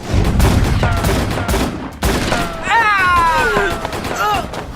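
Gunfire from a sniper during an anime action scene, heard as a burst of sharp shots under loud dramatic music and shouting voices.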